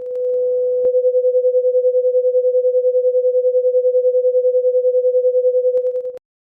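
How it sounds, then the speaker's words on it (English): A steady pure tone with a slow, even pulsing wobble in loudness, two close pitches beating together for several seconds, then cutting off. "What you hear is a kind of fluttering sound."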